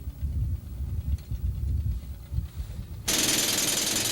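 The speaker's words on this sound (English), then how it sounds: "Here we see the air hammer being used in a chamber about 200 feet from the main shaft." Air hammer drilling into rock in a meerschaum mine chamber about 200 feet from the main shaft, a low rattling clatter that turns into a loud continuous hiss of air partway through.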